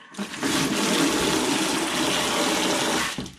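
Cold water gushes in a strong, steady rush from a valve in an old 1910 log sauna, loud and close, then cuts off at the end.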